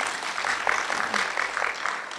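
An audience claps steadily at a Brahma Kumaris class led by Dadi Janki, a brief, even patter of many hands at moderate volume.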